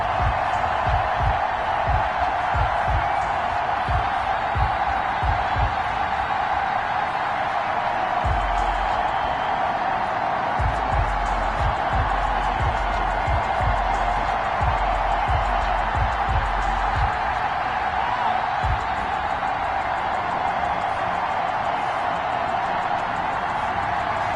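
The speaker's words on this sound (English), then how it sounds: "Big Ben Roethlisberger greeted by this sold-out Heinz Field crowd." Stadium crowd noise from a sold-out Heinz Field in a Madden 21 simulation of Washington versus Pittsburgh, a steady broad roar with faint cheering, under bursts of low rhythmic thumping.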